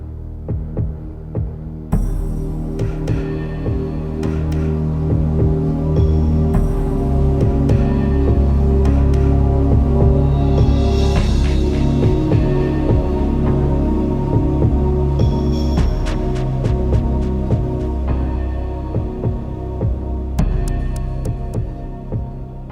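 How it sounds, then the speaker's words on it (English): A Dremel rotary tool whines and throbs loudly and continuously while chipping circles into a Halloween tombstone prop for a coral effect, the steady motor hum with harmonics lasting nearly the whole time. "draw out some circles and chip out using this new Dremel tool"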